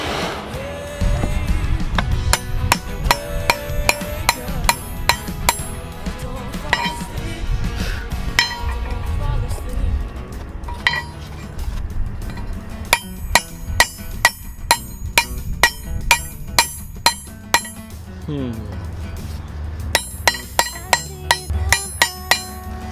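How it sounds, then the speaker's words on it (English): Ball peen hammer striking the ring of a metal wrench, a long series of sharp ringing clinks, some spaced and some in quick bursts, close and loud with metallic resonance between blows. "I'm going to try to see if I can round the ring back out by hitting directly in the center of it with the ball peen hammer"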